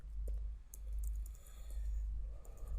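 Light clicking of a computer keyboard while typing PHP code, scattered soft taps over a steady low hum, fairly faint and without talk.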